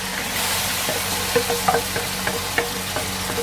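Onions and ginger garlic paste sizzle steadily in a pan for biryani, a close, even hiss broken by a few soft spatula taps and pops.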